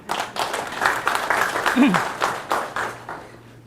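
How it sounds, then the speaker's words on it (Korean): Audience applause at a garlic-farming talk, a steady wash of many hands clapping for about four seconds, moderately loud, with a low hum and a brief voice under it. "우리 양수원 조합장님께서도 일을 좀 더 잘하시게 박수 한번 보내주시죠"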